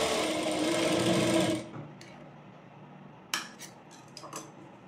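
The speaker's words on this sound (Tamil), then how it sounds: "இந்த ஷார்ப்பான பாயிண்டில் நீடியில் உள்ளார வச்சுட்டு டேர்ன் பண்ணி ஸ்டிச் பண்ணணும்." Sewing machine stitching cotton fabric for a pleated petticoat, a fast steady whirr for about a second and a half, then stopping, followed by a few light clicks and taps.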